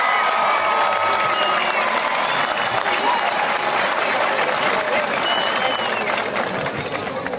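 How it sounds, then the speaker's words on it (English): A crowd at the Assumption High graduation applauds the graduating students, loud dense clapping that holds steady with faint cheering and murmurs mixed in, easing slightly at the end. "I wish you would give them a round of applause for being so well behaved"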